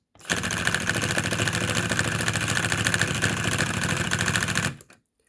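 A small Lego piston engine model built from basic pieces and driven by a motor runs at a fast, steady mechanical chatter for about four seconds, then stops abruptly.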